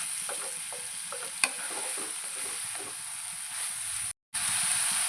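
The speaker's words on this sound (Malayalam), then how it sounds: "നല്ല രീതിയിൽ ഒന്ന് ഇളക്കി കൊടുക്കാം. വരണ്ട് വരട്ടെ." Jackfruit curry fries in a pan with a soft, steady sizzle while a spoon stirs it in a few light scrapes and one sharper knock, close but quiet, broken by a brief silent gap.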